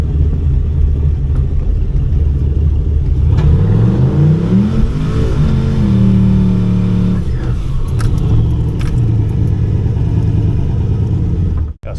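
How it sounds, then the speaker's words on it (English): A drag race streetcar does a burnout at a test day to scrub its tires, its engine droning loud and close, rising and sweeping in pitch as the revs climb, then holding a steady rumbling roar. "Gotta scrub the tires from sitting all winter."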